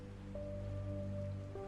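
Steady rain falling outside at night, a soft continuous patter with a low hum underneath, faint and even throughout.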